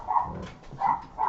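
A dog barks indoors in a short run of two or three barks, moderately close and alone without talk.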